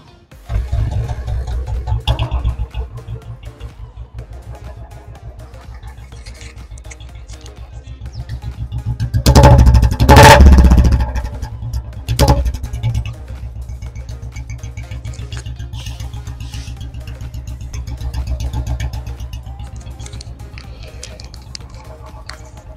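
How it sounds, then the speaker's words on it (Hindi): A Royal Enfield Bullet motorcycle idles close by with a low, steady, thumping exhaust beat, swelling into a few louder revs midway before settling back to idle. "मैं आपको बुलेट की साउंड एक बार चेक कराता हूँ"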